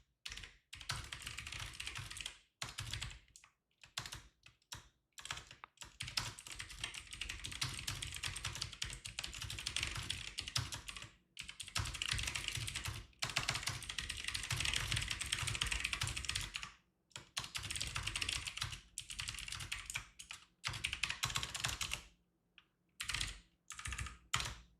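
Rapid, steady typing on a computer keyboard in a day-trading setup, with dense bursts of clicking separated by brief pauses, close and fairly loud with no talking.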